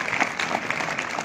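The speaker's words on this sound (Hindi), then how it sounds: "एक बार जोरदार तालियों से" Dense, even applause from a crowd at a school victory celebration, steady throughout with no voices standing out.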